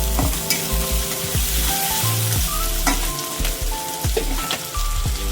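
Onions fry with a little sugar in a pan while being stirred, a loud continuous sizzle broken by repeated spoon clatters against the metal.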